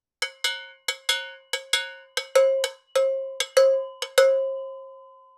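An ELH cowbell hit with a big beater, about a dozen sharp metallic strikes in an uneven rhythm, each ringing with bright overtones and a long final decay, close and alone.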